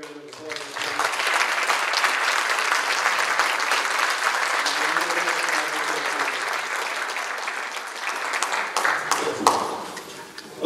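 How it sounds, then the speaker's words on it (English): A big round of audience applause at a crowdfunding event at Montclair State University: many hands clapping in a steady, full wash that rises quickly, holds for several seconds, then thins out into a few last claps. "Please give a big round of applause."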